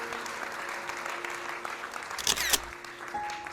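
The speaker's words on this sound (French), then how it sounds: "Une bonne main d'applaudissement." Soft, distant applause from an audience at a volunteers' day event in Saint-Lin-Laurentides, a steady low patter of clapping with a brief louder burst near the middle.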